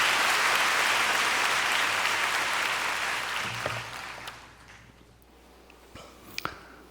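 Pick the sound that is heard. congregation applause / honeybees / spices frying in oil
congregation applause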